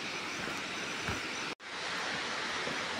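The Tindhare waterfall in Kavre gives a constant broadband rushing roar, dense and unbroken apart from a split-second dropout midway, with no voices present.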